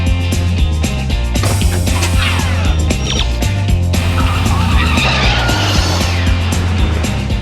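A Back to the Future DeLorean time machine replica car pulls away, engine roaring loudly and close while tires squeal and skid in bursts, with no talk over it.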